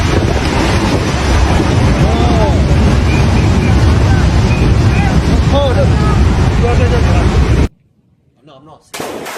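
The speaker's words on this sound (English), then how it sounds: "This lightning strike is incredibly intense and blinding." A loud, sustained roar of thunder fills the air with faint cries mixed in, then cuts abruptly to near silence.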